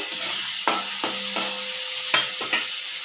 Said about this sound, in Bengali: টমেটো দিয়ে দেওয়ার পর বেশ খানিক্ষণভাবে ভেজে নেব তেলে